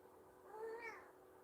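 A cat gives a single short meow, a clear rising-and-falling cry heard fairly close in a quiet room.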